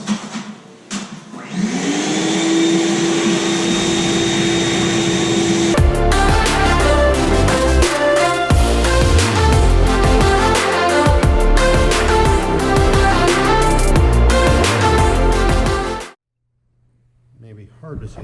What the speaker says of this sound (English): on a ladder cutting holes in a ceiling